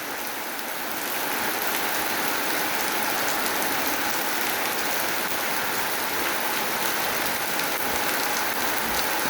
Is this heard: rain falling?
yes